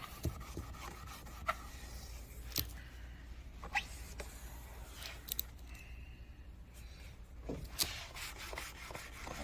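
A cloth wipes silicone wax and grease remover off a surface during an RV renovation, making soft, steady rubbing and swishing strokes with a few sharper scuffs, close and quiet, with no talking.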